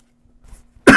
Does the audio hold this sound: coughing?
yes